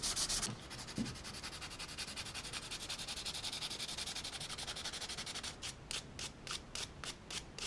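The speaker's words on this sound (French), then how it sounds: "plutôt que de venir frotter un peu péniblement comme ça, on peut faire le contraire, poser le papier de verre sur la table" Sandpaper rubbed against a wooden spoon during finishing, a continuous scratchy sanding that breaks into quick rhythmic back-and-forth strokes toward the end, close and fairly quiet with no talking.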